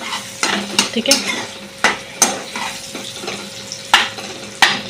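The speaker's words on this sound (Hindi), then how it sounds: "थोड़ा सा फ्लेम को हाई करेंगे एंड सॉटे करेंगे" Onions sautéing in a pan over a high flame, a bright sizzle under repeated sharp clanks and scrapes of a stirring spoon against the pan, close and fairly loud, with a brief spoken word.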